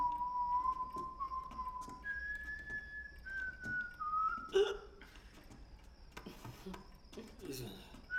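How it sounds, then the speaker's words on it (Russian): A person whistles a slow, thin, wavering melody of a few long held notes, fairly faint against a quiet background with small rustling noises. "Ты лучше свищи."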